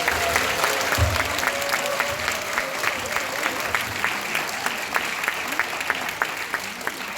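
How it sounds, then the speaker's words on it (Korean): Steady audience applause at a Korean political talk concert welcoming the guest panelists, dense clapping with occasional voices underneath. "큰 박수 부탁드리겠습니다."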